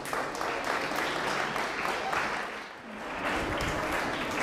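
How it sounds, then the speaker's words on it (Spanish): Audience in a school hall applauding a guest lawyer speaker at a human rights talk, a dense continuous wash of clapping holding steady for several seconds with a brief dip near the end. "Le brindamos un cariñoso aplauso"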